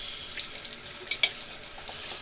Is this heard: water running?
yes